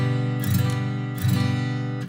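Clean acoustic guitar chords fretted with the fingertips, strummed three times in a steady rhythm, each ringing out bright and full, close and fairly loud, with no voices.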